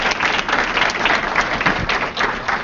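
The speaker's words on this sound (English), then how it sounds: "Can we give him a round of applause, please?" An audience at an art-in-advertising talk applauds, dense sustained clapping from a crowd that stays even throughout.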